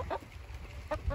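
A backyard chicken clucks softly in the rain at bedtime near its coop, a couple of short clucks at the start and again near the end against a quiet rainy background.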